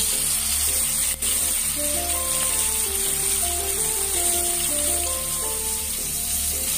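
Saba fish frying in a pan, a steady close sizzle with a constant hiss throughout, while gentle background music plays underneath.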